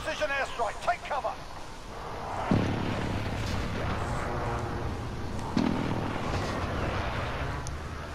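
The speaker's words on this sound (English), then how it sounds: "Enemy precision airstrike, take cover." Precision airstrike explosions in Call of Duty Warzone on Rebirth Island come as two dull booms a few seconds apart over steady rumbling game noise, with voices talking throughout.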